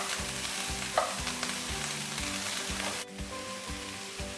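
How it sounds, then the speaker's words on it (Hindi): Mixed vegetables being stirred and lightly fried for Singaporean rice, a continuous close sizzle with rhythmic spatula strokes against the pan and no voices. "इनको अच्छी तरह बस मिक्स कर लेते हैं।"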